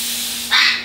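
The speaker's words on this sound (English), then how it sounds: "We'll just let out a bit of steam out." Steam bursts from the steam wand of a Bellman CX-25P stovetop espresso maker, a sudden loud hiss that starts midway, holds briefly, then tapers off, following a lower steady hiss and hum.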